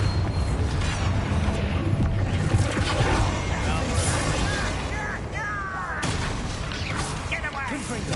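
Bombarda spell blasts in the fantasy action game Hogwarts Legacy, booming crashes and rumbling impacts mixed with whooshing magic effects and shouted voices throughout a dense, continuous battle.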